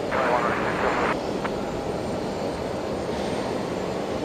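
Aircraft departing Brisbane Airport, a broad steady jet roar, somewhat distant, running throughout beneath a short burst of radio-like chatter near the start.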